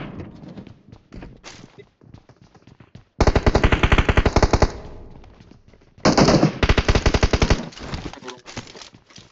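Automatic gunfire from a shooting video game bursts out in two loud sustained volleys, rapid and rhythmic, separated by quieter scattered shots and game sounds.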